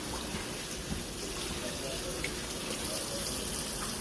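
A kitchen tap runs steadily into a sink while steaks are rinsed, giving a continuous hiss and splash that grows slightly louder toward the end, with faint talk in the background.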